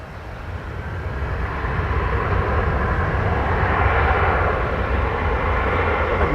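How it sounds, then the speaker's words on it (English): An American Airlines Airbus A321 roars past at Dallas Fort Worth airport, its loud, broadband engine rumble swelling steadily and holding strong throughout, with no voices. "It's an A321. Flight 2473 of the American brand"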